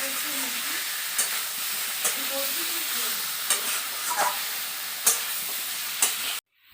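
Jackfruit and shrimp fry in a pan with a constant loud sizzle, and a spoon scrapes and stirs at regular intervals about once a second before the sound cuts off abruptly.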